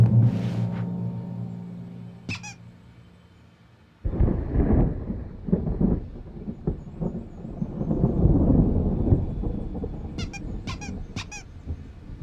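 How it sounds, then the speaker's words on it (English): Thunder rumbles through a stormy scene in the game Alan Wake, with a low, rolling roar swelling up midway and a few sharp squeaky accents at the start and near the end; no one speaks. "There's a storm coming. Oh, what a storm."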